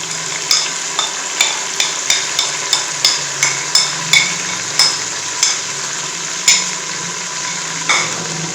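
Garlic, ginger and green chilies fry with browned onions in a pan, a steady sizzle broken by regular clanks of a spoon stirring against the pot, close and alone without talk.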